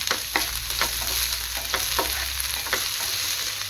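Crushed onion and garlic frying in hot oil, a dense constant sizzle close up with regular scraping stirs about every half second, no voices.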